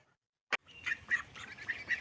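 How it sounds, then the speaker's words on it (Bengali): Domestic ducks quack in the rain, a sharp knock followed by a series of nasal, honking quacks in an irregular rhythm, fairly close and otherwise quiet. "তো বৃষ্টিতে দেখো আমাদের হাঁসগুলো কি অবস্থা করেছে।"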